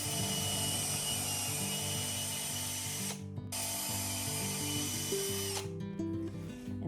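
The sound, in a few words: power drill drilling into plywood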